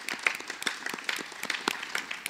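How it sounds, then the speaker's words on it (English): Mourners at a memorial service applaud, a brief stretch of scattered, moderately close hand claps with uneven rhythm. "Let's praise the Lord together with an applause, shall we?"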